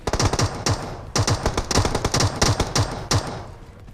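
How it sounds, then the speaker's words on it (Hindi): Bursts of automatic gunfire ring out in a battle-royale shooter match, with rapid volleys repeating in quick clusters across several seconds, loud and close. "सामने से फायरिंग हो जाती है।"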